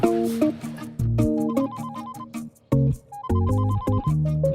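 Mobile phone ringtone playing a bright electronic melody of stepped chiming notes, loud and close, in short repeating phrases with brief gaps and no voices.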